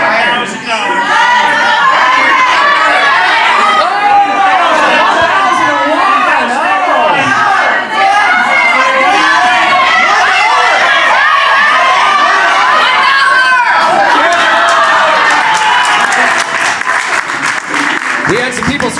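A game-show studio audience yells and cheers in a loud, continuous roar of overlapping shouts and applause, with excited voices rising and falling throughout.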